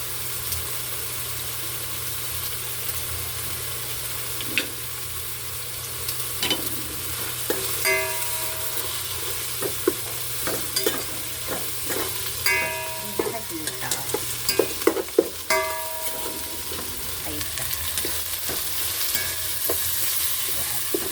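Vegetables sizzle in a pan for Bikol-style pansit bato while a utensil scrapes and clatters through them in irregular bursts. A low steady hum sits underneath, and no one speaks.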